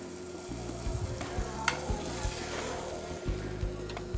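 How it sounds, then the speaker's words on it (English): A pork chop sears in a hot pan, giving a steady close sizzle and frying crackle with irregular stirring and scraping noises, no voices. "By pan searing it, we're searing it at a high heat real fast."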